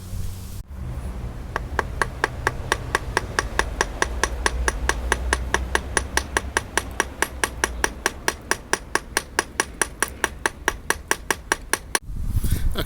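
Hammer flattening a metal section of about 1.5 inches during an AC compressor clutch gap fix: a long, rapid, steady series of around forty sharp, ringing metallic blows at close range, stopping abruptly near the end.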